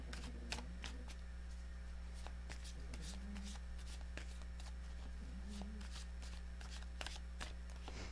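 A deck of tarot cards is shuffled repeatedly, crisp riffles and taps close up over a steady background hum, with no talking.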